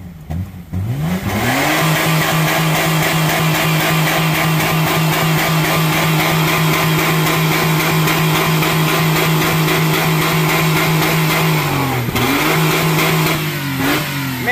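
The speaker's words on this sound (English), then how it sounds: "This is a tough motor." Car engine screaming at sustained high revs while deliberately run to destruction in neutral, a loud, close, steady roar with a brief dip and recovery near the end.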